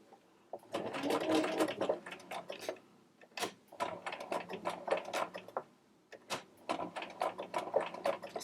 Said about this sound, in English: So I'm carefully taking a few stitches every time and then pivoting to turn this corner.